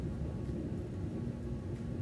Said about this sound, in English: If you guys hear thunder, that's why.